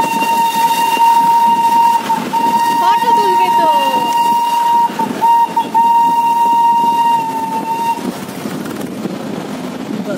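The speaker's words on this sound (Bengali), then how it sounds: "অবশেষে টয় ট্রেনে দেখা মিলল" The Darjeeling toy train passing near the highest station, sounding a long, steady whistle-like horn that holds for several seconds with brief breaks, over rumbling movement and a brief spoken line.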